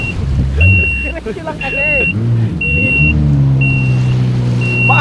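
A jet ski skims choppy sea waves, its engine droning steadily up close beneath a man's continuous chatter, with a repeating high beep sounding at regular intervals.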